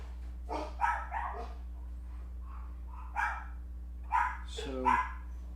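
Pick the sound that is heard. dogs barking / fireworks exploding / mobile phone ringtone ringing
dogs barking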